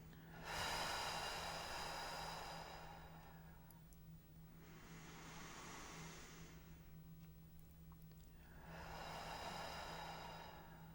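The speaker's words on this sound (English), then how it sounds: "take 3 nice deep breaths with me" Three slow, deep breaths, each a long airy inhale and exhale rising and falling close to the mic, with a steady low hum underneath and no talking.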